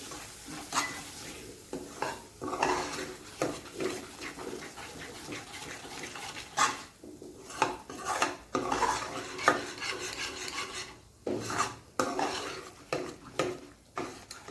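Black masala being stirred in hot oil in a cooking pot for a drumstick curry, with repeated scraping and rasping strokes of a spoon against the pot and a soft sizzle underneath, close and steady.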